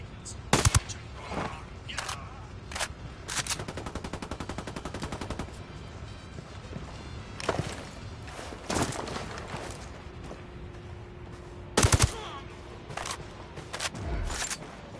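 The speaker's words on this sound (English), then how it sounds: "Opening fire on these fuckers" Gunfire in a first-person shooter game, with several sharp single shots and a long stretch of rapid automatic fire. The shots are loud and closely spaced against steady background game noise, and a voice speaks briefly.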